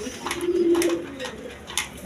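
A pair of young racer pigeons coo close by, one low sustained coo standing out over faint background noise, with no talking.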